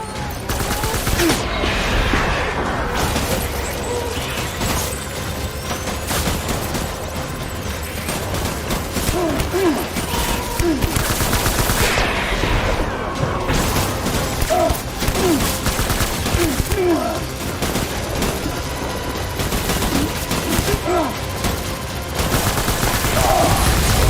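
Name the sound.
gunfire in the video game Death Stranding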